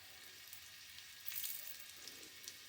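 Maida and egg cutlets fry in hot oil with a steady, quiet hiss and sizzle that swells briefly as a piece goes into the pan, with no talking.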